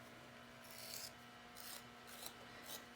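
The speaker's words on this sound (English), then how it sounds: "So I'm going to go ahead and score my piece." A bevel tool scores a wooden piece for a puzzle box with square corners, giving four raspy scraping strokes at a steady rhythm, close up over a faint steady hum.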